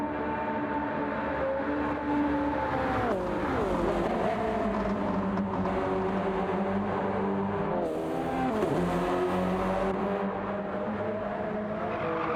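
Race cars lap the Nordschleife during a 24-hour endurance race in a racing game, their engines droning loudly and steadily with rising and falling pitch as they shift gears and accelerate down a straight.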